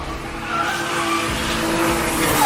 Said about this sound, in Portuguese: drift é uma arte de condução do carro que consiste em deslizar a traseira nas curvas